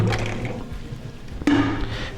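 Cold tap water splashes steadily over freshly boiled razor clams, with a fuller, louder gush surging in about two-thirds of the way through.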